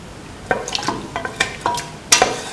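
Scrambled egg, potato and coconut milk stir fry being mixed in a pan, a series of close, wet scraping and squelching stirs in quick, uneven strokes.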